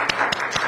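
A church congregation gives a short burst of applause, with a few distinct claps standing out over the brief, moderately loud sound of many hands.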